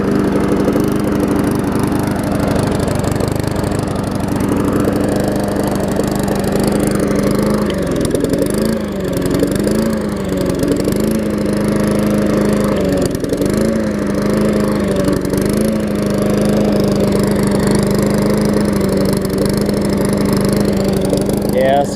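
A Murray lawn mower engine running steadily close by, a loud continuous drone whose pitch wavers and surges slightly as if hunting for fuel, with someone talking over it.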